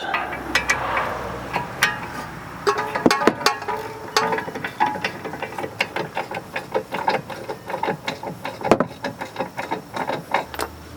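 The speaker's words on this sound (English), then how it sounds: "Snug the bolt down and then tighten it with a ratchet." A ratchet tightens the bolt on a Harbor Freight ball joint separator, a steady run of quick metallic clicks and ratcheting strokes, close and continuous throughout.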